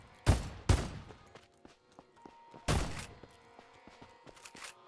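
Booming shotgun blasts from a video game under construction, three loud shots with sharp attacks and decaying tails, the second following closely on the first and the third after a pause, with faint clicks and game tones between.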